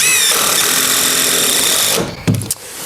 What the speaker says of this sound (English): to fix the joists in place, all we do is go up from the bottom with some 100mm screws